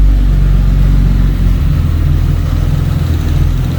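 A turbocharged VR6 engine with large injectors idles slightly unevenly, a loud, close, continuous low rumble with a faint pulsing hunt and no talk.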